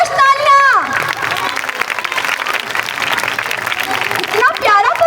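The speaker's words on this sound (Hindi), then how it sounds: "पुरजोश तालियां।" Children and parents clapping enthusiastically at a school Independence Day celebration, a dense crowd of applause lasting several seconds, with a voice speaking at the start and end.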